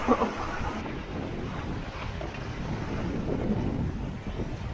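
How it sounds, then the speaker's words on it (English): Strong wind roars and buffets the microphone continuously on a sailboat at sea, with rushing water faintly beneath. "the wind's actually swung around to behind us now, which is, it's so windy."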